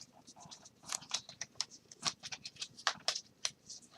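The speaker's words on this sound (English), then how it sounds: "When it's only 10 cards, it's so hard to shuffle them up to get them random." A small stack of ten playing cards is shuffled by hand in quick irregular riffles and flicks, close and fairly quiet, with no talking.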